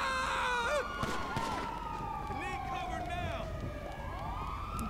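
Several police car sirens wail and sweep in pitch inside GTA Online, with overlapping rising and falling tones that sound near and steady throughout, mixed with a busy game soundscape.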